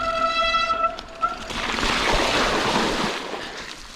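Feet splash through a trail creek crossing on a run during ultramarathon training, with a burst of broadband water splashing and rushing sounds building after a brief tonal whine, near and fairly loud.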